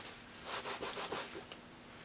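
Soft rubbing strokes as alcohol is wiped off an acrylic pour painting, about five quick swipes in a row, faint and close with no talk.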